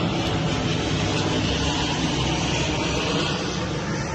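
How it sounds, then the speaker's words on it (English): An airplane passes overhead in Luang Prabang, Laos, giving a loud, steady broadband engine roar that holds evenly through the whole stretch with no talk over it. "Let the plane go over."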